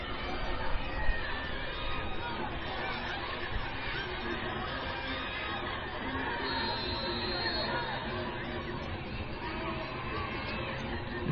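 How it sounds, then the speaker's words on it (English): Crowd at a live football game with the Vikings driving, a steady wash of chatter and babble with scattered laughter, fairly loud and continuous throughout. "The crowd is getting into it."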